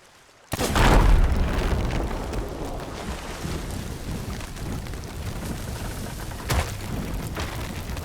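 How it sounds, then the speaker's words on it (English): A gunpowder keg explodes in a pirate video game, set off beside a ship's crow's nest. A sudden loud boom is followed by a long roaring rumble that slowly fades, with a smaller thud near the end. "There goes number 4."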